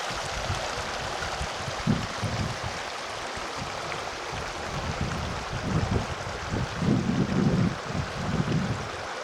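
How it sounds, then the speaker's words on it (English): A small babbling mountain stream on a backpacking route near a mountain pass gives a steady broadband wash of running water, with soft low gusts of wind rumbling over the microphone now and then. No voices are heard. "Just a babbling stream."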